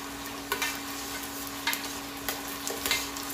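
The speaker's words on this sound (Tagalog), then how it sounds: "pritohin muna natin itong bawang at sibuyas" Garlic and onion frying in a pan before rice is added for lugaw, with a continuous sizzle under a low steady hum and several scraping stirs, close up and with no voices.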